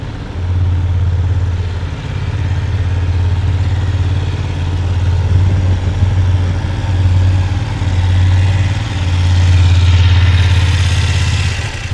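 A motorcycle engine idles and burbles at low speed while the bike creeps along and comes smoothly to a stop, a steady close low throb with gentle swells in throttle.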